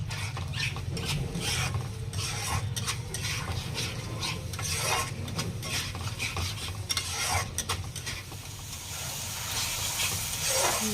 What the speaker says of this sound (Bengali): আঁচটা বাড়িয়ে আবার একটু নেড়ে নিচ্ছি